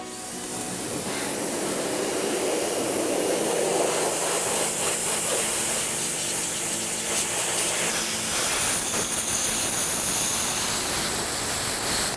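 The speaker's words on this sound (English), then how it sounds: "I also like to set it up against a hard surface to prevent it from spinning around while you're pressure washing it" A pressure washer blasts a deer skull propped against a hard surface outdoors, a loud continuous hissing spray that shifts in tone as the jet moves across bone.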